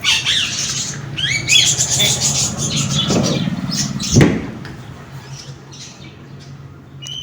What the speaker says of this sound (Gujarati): જોડા આપણા ચકલા બહુ મસ્ત મજાના ઉડી રહ્યા છે